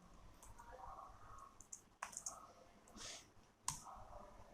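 Typing Python code on a computer keyboard, quiet clustered key clicks in short bursts with a few sharper isolated taps, close and faint, no talking.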